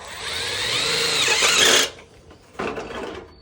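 A power drill drives screws into an aluminum gutter end cap, whirring loudly for nearly two seconds, stopping, then giving a second shorter burst after a pause.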